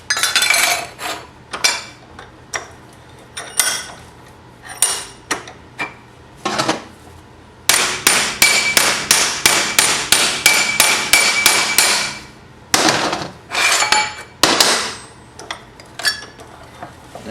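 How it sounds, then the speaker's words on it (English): An old brass hammer strikes metal in a loud, close run of sharp ringing whacks, some spaced apart and one fast rapid-fire burst in the middle, with no talking. "a couple whacks with the old brass hammer or whatever hammer you got"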